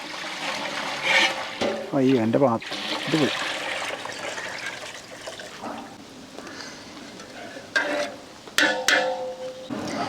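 Water pours into a pot of rice being cooked for beef mandi, a steady splashing run with trickling near the start, broken by short bursts of speech and a few sharp clatters toward the end.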